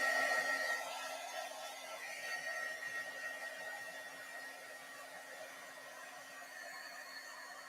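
A heat gun warming up runs as a steady, faint airy whoosh with a thin whine, slightly louder at the start and then settling into an even hum with no speech.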